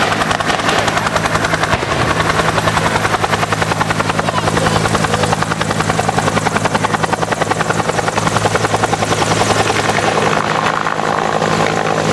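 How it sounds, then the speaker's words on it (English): A helicopter gunship drones loudly overhead at a Vietnam war reenactment, its rotor blades thumping in a fast steady rhythm throughout, with no voices. "you'll notice the gunship constantly overhead to provide any cover required"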